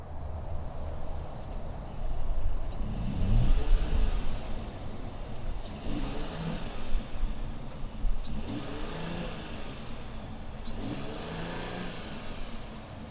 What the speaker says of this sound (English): But why don't we fire up this GLS 450 and see what it sounds like.